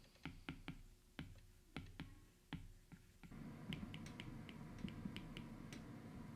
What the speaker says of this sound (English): Take a listen to what it sounds like to write on an iPad with and without Paperlike.